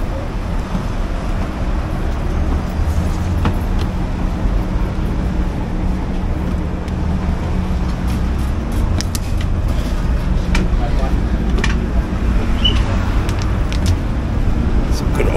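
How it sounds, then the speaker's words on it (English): An old city bus rumbles through Bangkok traffic with a low engine drone and rattles, packed with riders. Voices talk over the continuous rumble, and scattered clanks and thumps come through. "we're having a local experience here on the bus in Bangkok, jumping on one of these old buses"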